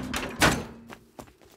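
A door being shut in the survival game Rust, heard as a close, heavy thunk with a rattle and a few softer knocks after it, over a low background hum.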